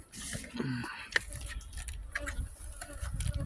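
Honeybees buzz around a hive entrance, affected by black disease (maladie noire), with soft irregular close buzzing and light patter, under scattered handling noises.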